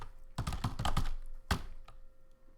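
Computer keyboard typing up close, a quick burst of clattering keystrokes followed by a harder single tap and a few faint stray clicks, with no voices.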